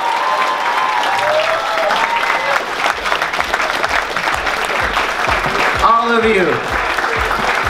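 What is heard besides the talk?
audience applause for fursuit dance performers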